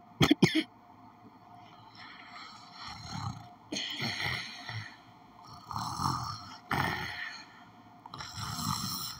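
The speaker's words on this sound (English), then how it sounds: "I can hear him snoring." A sleeping character snores in a video game, a few slow, rasping breaths rising and falling in a steady rhythm after a couple of sharp opening bursts, moderately loud and close.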